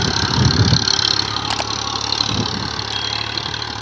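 A Massey Ferguson 1035 DI 35 hp tractor engine runs steadily with a low, continuous rumble, close and fairly loud, with no talking.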